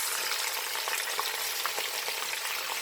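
Oxtails browning in a frying pan give off a dense, steady sizzle and crackle throughout, close and even, with no voices.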